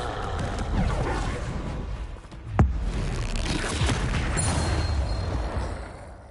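The Bombarda explosive spell in Hogwarts Legacy goes off as one sharp, loud crack midway, set against a dense, roaring wash of game ambience and rumbling effects that fills the whole stretch.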